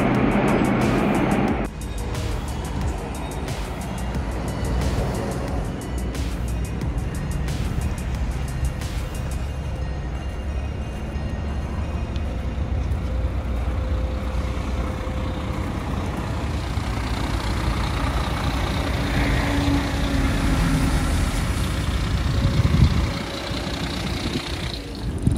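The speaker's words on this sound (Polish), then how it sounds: "oprócz tego, że głośno, bo to autobus miejski, to super się jedzie" Loud, continuous engine rumble and road roar from inside a moving Solaris Urbino 12 city bus, steady throughout with occasional rattles and a brief thump near the end.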